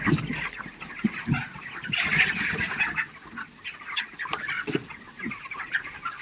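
Chickens in a poultry farm, 26 days old, cluck and squawk continuously, several birds close by with overlapping calls and no talking.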